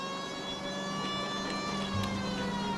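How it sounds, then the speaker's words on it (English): Police car siren in the video game L.A. Noire, a steady wailing tone with layered harmonics that runs continuously and loudly over engine rumble for the whole stretch. "How do I turn off sirens?"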